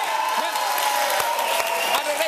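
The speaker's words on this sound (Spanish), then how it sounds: "Un aplauso para ellos." Studio audience applause on a Caracas talk show, a steady, fairly loud wash of clapping and cheering with a tonal hum and voices running underneath throughout.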